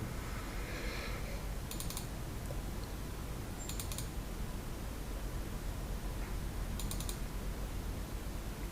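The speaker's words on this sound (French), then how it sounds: "on peut effectivement double-cliquer dessus pour l'ouvrir" A computer mouse double-clicks to open a PDF file. Three faint, brief clicks come a few seconds apart over a steady background hiss.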